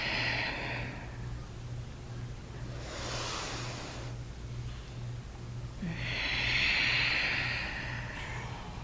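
Slow, audible breaths during a guided yoga exercise: soft airy exhales and inhales come and go in long swells, close and fairly quiet, with no talking over them.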